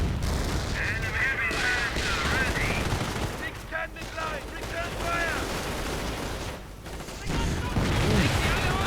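A war strategy video game fills with steady battlefield noise: repeated gunfire and distant artillery booms over a constant rumble, with a voice talking over it.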